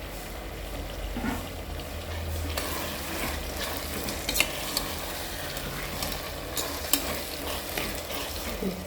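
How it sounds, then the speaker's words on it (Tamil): Tomatoes, onion, ginger and garlic sizzle and fry in oil in a pan, a steady close crackling hiss with occasional stirring scrapes throughout, no talking. "இப்போ இதுவும் நல்லா அப்படியே அந்த எண்ணெயிலேயே அந்த வெங்காயமும் தக்காளியும் நல்லா வெந்த அதோடைய உருவமே இல்லாத அளவுக்கு குழஞ்சி போயிடணும்."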